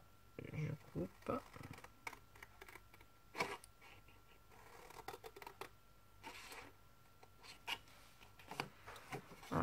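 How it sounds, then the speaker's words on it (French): Scissors snip paper while making a multi-photo frame craft, giving a series of short crisp cuts and rustles spaced irregularly, with soft handling noise and a voice talking now and then. "Et le reste, je vais couper au ciseau."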